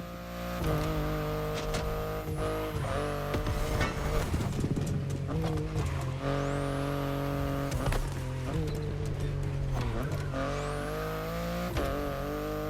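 BMW i8 driving in The Crew Motorfest video game: a continuous engine drone with repeated pitch drops at gear changes and high, sweeping whines rising and falling, loud and close throughout.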